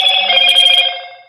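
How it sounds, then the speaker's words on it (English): A phone rings with a bright electronic trill, one short burst of ringing that fades out, heard alone and close. "My phone keeps going off."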